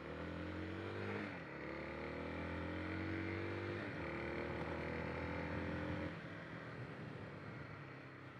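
A 2022 Kawasaki KLX 300SM single-cylinder motorcycle revs up and pulls away, the engine note rising through gear changes and staying steady and close, with a muffled, slightly distant quality.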